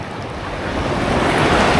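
Ocean waves surge and wash steadily, building slightly louder toward the end, with wind rushing across the microphone.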